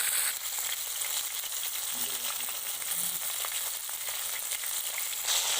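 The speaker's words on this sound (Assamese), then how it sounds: "এয়া মাছখিনি ফ্ৰাই কৰা হ'লেই" Fish fries in a pan with oil and turmeric, giving a continuous close sizzle and crackle with a few faint stirring knocks, and no voices over it.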